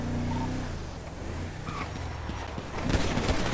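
Gunfire in a GTA roleplay game: a few sharp shots crack out amid car engine noise, with a denser burst of shots near the end.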